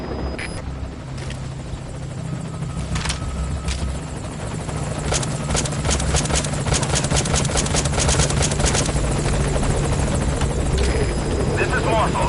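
A helicopter in the video game Metal Gear Solid 5 closes in on a landing zone. A loud, steady rotor thrum and engine roar builds in strength and dominates throughout, with a radio voice speaking over it.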